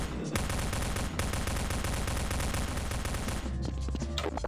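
A sustained, rapid burst of gunfire rings out in Half-Life: Alyx, loud and continuous for several seconds before tapering into scattered game noise.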